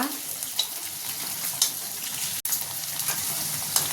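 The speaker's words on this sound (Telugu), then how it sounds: "బెండకాయలు ఫ్రై అయ్యేలోపు" Okra sizzles steadily in a hot pan, a constant frying hiss with occasional louder pops and crackles.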